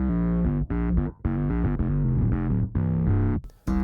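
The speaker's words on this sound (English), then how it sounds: "you run the Octaver into the distortion" Distorted bass notes from an octaver run into a distortion pedal, a thick octave-doubled tone playing a short riff, fuzzy and loud, with brief gaps between phrases.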